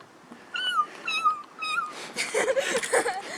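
A person imitates a mountain lion with a series of rising, wavering cat-like yowls on a mountain peak hike, three drawn-out calls followed by rougher, louder screeching bursts, close to the mic.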